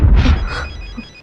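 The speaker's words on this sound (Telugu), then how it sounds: "రింగ్ అవుతుంది." A telephone rings once, loud and close, in a brief burst that fades quickly, with no voices.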